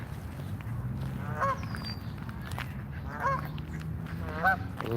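Geese honk in short, separate bursts, three or four calls spaced a second or two apart, heard outdoors over a steady low rumble of background noise.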